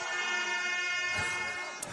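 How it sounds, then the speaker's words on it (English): Loud blaring air horns sound continuously at a soccer match, a sustained layered honk with crowd noise and a brief burst of commotion near the end. "the air horns are going off"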